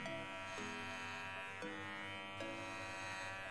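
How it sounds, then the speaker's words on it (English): An electric trimmer buzzes steadily up close as it cuts through faux fur hairs for cosplay ears, its whine dipping slightly a few times as the blades bite into the fibres. "Then I turn on the trimmer"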